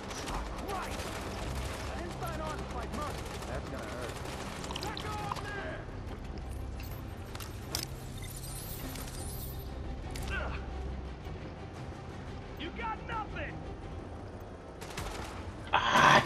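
Gunfire rattles through a firefight in the video game Tom Clancy's The Division, with dense overlapping bursts under steady game noise and music while a player talks throughout.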